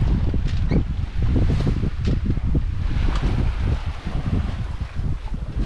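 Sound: sailboat under sail in wind, engine off

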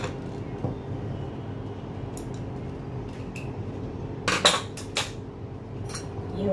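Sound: spoon and pot clatter while dishing out mutton curry

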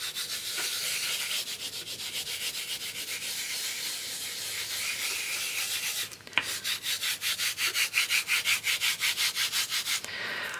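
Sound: rubbing glitter into polymer clay with fingertips

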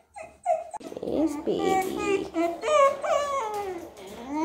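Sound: black dog whimpering

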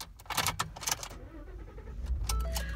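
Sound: 2014 Ford F-150 truck engine starting

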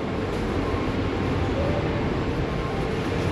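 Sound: old model train running

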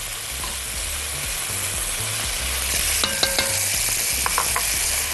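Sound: onions and potatoes frying in butter

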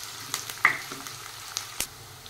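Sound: onions sautéing in a pan while being stirred

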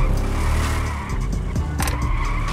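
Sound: motorcycle riding in a video game

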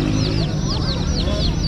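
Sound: chicken clucking

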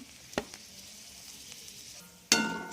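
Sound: bay leaf, dried chilli, cinnamon, cloves frying in oil

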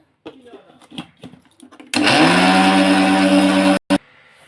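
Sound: mixer grinder grinding soybeans

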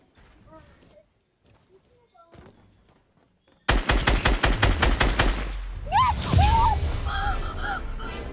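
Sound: SMG gunfire in the video game Fortnite

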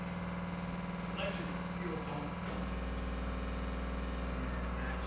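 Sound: 6-volt fuel pump running in a Hudson car

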